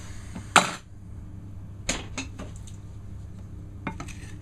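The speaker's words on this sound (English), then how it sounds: "Scrape out any last bits you might have in there." A spoon scrapes the last bits of cake mixture for a flat fruit sponge out of a mixing bowl, giving a sharp clink followed by a few lighter scrapes and taps against the bowl, close and alone.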